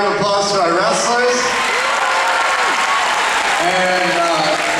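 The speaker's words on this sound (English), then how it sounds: "So let's give a big round of applause to our wrestlers." Audience applause for a school wrestling team, a sustained burst of clapping and cheering from a crowd with some voices mixed in.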